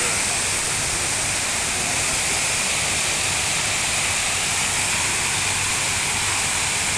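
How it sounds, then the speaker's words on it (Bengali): An automatic artificial waterfall fountain at a resort and spa gives a steady, loud rush of falling water, a continuous broadband hiss that holds unchanged for the whole stretch with no voices over it. "অটোমেটিক ঝর্ণা।"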